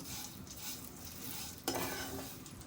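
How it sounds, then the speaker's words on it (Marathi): Sautéing in hot ghee for a Ganesh Chaturthi offering, a steady soft sizzle with gentle stirring scrapes, growing a little brighter and louder partway through as something new hits the pan; no talking. "तुपावर सुद्धा एक अर्धा एक मिनटं परतून घ्यायचे"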